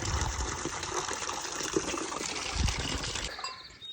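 Warm electrolyte water pours and gushes steadily for a cow, a close, continuous splashing stream that eases off near the end.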